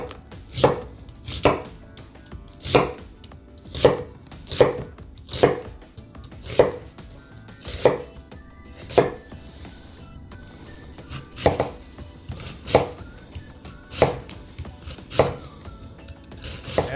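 An onion chopped with a knife on a board for chicken curry, about a dozen crisp evenly spaced thuds at a slow steady pace, close and clear with light scraping between strokes.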